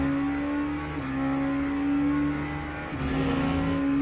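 An LMP2 prototype race car engine in the Le Mans Ultimate racing game, a loud, steady high-pitched drone with brief dips at gear shifts before it climbs again.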